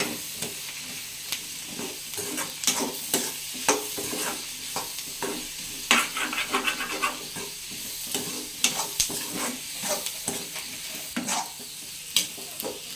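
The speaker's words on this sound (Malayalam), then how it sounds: "ഞാൻ ഇതിനകത്ത് തന്നെ ഉള്ളി വാട്ടുകയാണ്." Onions sautéing in a pan for an egg roast, a soft steady sizzle under repeated sharp scrapes and clinks of a spoon stirring, close and moderately loud, with no voices.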